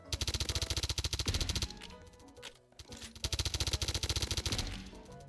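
Rapid automatic gunfire from a weapon in a Roblox shooter, a loud steady stream of evenly spaced shots that breaks off briefly midway and then resumes.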